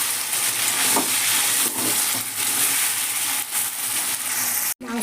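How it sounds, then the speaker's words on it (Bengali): Chicken pieces coated in turmeric, Kashmiri red chili and ground spice paste sizzle loudly in a pan, with a continuous close frying hiss broken by soft stirring scrapes and a brief clatter near the end. "ভালো করে কষতে হবে।"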